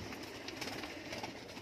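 Pigeons coo softly at a market stall selling birds, low murmuring calls repeating over a dense background hum with faint clatter.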